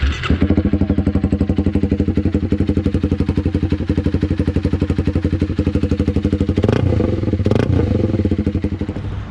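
A Honda Rebel 300 motorcycle with a Two Brothers racing exhaust and heat-wrapped stock pipe idles loudly up close with a rapid, lumpy exhaust pulse, briefly revving higher near the end before settling back.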